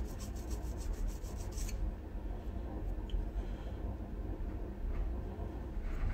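A blade sharpened on a coarse whetstone with a few quick rhythmic rasping strokes at the start, then a faint scrape over low background rumble.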